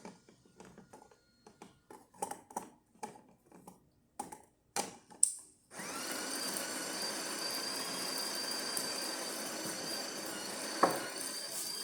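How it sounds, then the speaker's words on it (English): A DeLonghi La Specialista EC993X espresso machine, freshly tuned up and descaled, is handled with a series of clicks and knocks, then starts a steady, loud pump hum while pulling a test shot, with one brief clunk near the end. "So let's go ahead and test it and make espresso shot in it."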